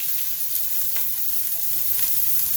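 Onion and peppers sautéing in hot olive oil in a pan, a steady, close hiss of frying with faint crackles running throughout, no voices.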